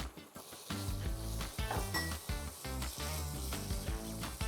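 Chopped onion sizzles and fries in hot oil with garlic in a pan, a steady close crackle with faint clinks of a utensil stirring against the pot.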